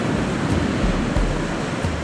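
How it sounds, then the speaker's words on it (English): Ocean waves breaking close to shore at Port Orford, Oregon, where a gray whale forages near beachgoers: a steady broadband wash of surf with a few soft low thumps of breakers, no voices. "you can see the waves breaking and the people playing."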